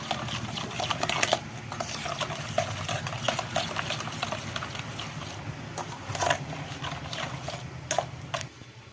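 A spoon stirs powdered sugar into mango sharbat, with irregular light clinks and taps against the glass over a low steady hum, fairly close but quiet.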